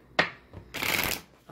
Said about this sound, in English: we're going to shuffle a little bit here.